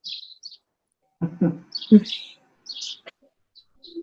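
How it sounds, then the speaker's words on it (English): Small birds chirp outdoors in short high tweets scattered through the background, while a voice speaks briefly in the middle. "I hear some birds somewhere on the background."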